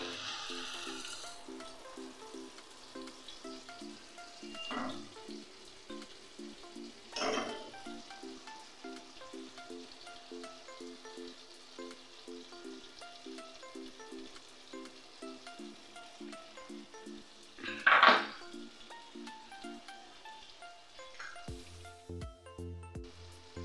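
Spice masala frying in a pan for onion katla kalia fish curry gives a soft, continuous sizzle with a few sharper stirring scrapes, while quiet background music runs underneath.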